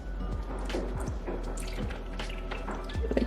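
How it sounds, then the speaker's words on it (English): Blue liqueur trickles in small pours over ice into a glass, giving soft liquid dribbles and light drips with faint clinks, close and quiet, no talking. "I don't want to pour too much."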